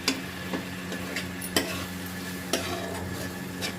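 Fresh cream being stirred into a simmering paneer curry in a pan, a soft bubbling sizzle with a few distinct spoon taps against the pan at irregular intervals, close and alone without talk.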